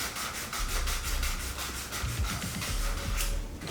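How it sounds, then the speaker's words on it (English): Steady rhythmic rubbing strokes of sandpaper smoothing glue and manufacturing debris on a Saturn V model rocket engine, close and continuous with no talking. "we have 2 steps, I think, of sanding this engine right here"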